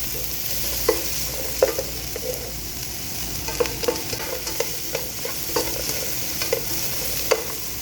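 Two medium sliced onions frying in oil in a pan for a bhindi pyaz dish, giving a steady close sizzle punctuated by repeated spatula stirs and scrapes at an irregular rhythm.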